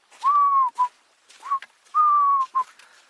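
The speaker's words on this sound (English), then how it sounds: "can hear a Cape turtle dove" Cape turtle dove calling at sunrise on an African safari: a clear, near, whistled coo pattern, a long note followed by a short one, repeated three times across a few seconds, alone with no talk.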